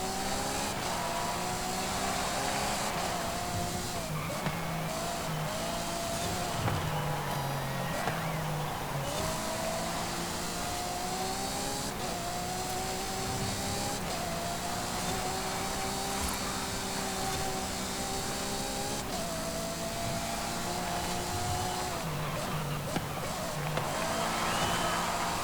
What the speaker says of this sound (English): I'll let you listen to the engine for a little bit